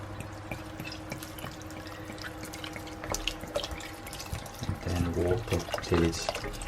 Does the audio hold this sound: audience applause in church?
no